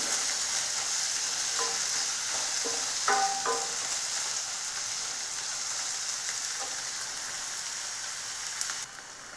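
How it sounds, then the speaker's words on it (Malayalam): Sliced onions sauté in oil in a pan, giving a steady close sizzle with occasional scraping and stirring clicks, no voices. "കുറച്ച് നന്നായി ഒന്ന് വഴറ്റിയെടുത്താൽ മതി."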